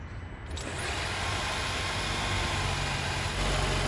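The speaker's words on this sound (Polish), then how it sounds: "I teraz coś, na co prawdopodobnie wszyscy czekacie, czyli dźwięk tego 2-litrowego silnika." A Jeep's 2-litre engine idles close by, a steady low rumble that picks up slightly after a brief quieter start and then holds even, with no talk over it.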